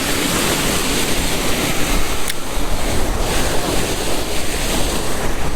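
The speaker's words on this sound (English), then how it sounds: "this wind is blowing like crazy, man" Strong wind buffets the microphone beside cold water while fishing for yellow perch, a loud continuous roaring gust with surf-like wash and no voices.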